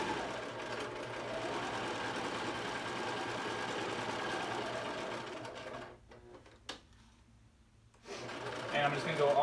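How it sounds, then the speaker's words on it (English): A sewing machine runs a long continuous stitch through a cotton face mask, a steady whirring drone that pauses briefly with a few clicks before resuming louder, with a person talking over it. "I'm going to back stitch, go forwards, and lift it up, go around the corner."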